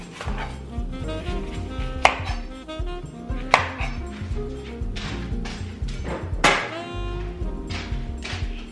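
A knife chops vegetables for braised short ribs on a cutting board in a steady series of close thunks, with a few sharper knocks and scrapes between strokes.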